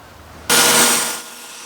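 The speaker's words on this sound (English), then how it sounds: "take it to my small disc belt sander and just grind off most of the material" A small disc belt sander grinds material off brackets in one short, loud, broadband burst of about two-thirds of a second that starts abruptly and then fades away.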